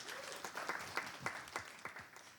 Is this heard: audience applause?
yes